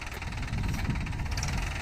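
A Mahindra 475 DI tractor engine running on a farm field: a continuous close, rough, knocking diesel rumble at steady loudness.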